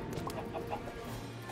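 Animated Minecraft chickens cluck in short repeated bursts over a steady busy background of game noise, moderately loud throughout.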